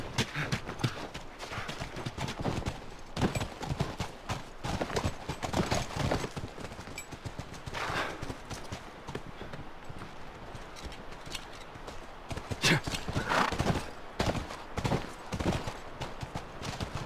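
Horse hoofbeats in the video game The Last of Us, a run of close clip-clop strikes with irregular rhythm, varying in loudness with bursts of louder clatter, no speech.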